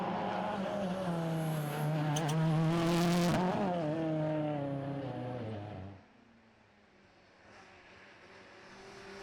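A Ford Fiesta rally car on a circuit stage at Cadwell Park roars loudly past, its engine note climbing and falling for about six seconds, then fades to a distant, quieter drone.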